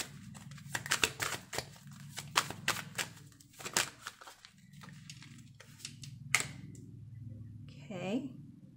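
Quick bursts of crisp, papery riffling and tapping as tarot cards are shuffled repeatedly, close up, with a voice briefly audible near the end.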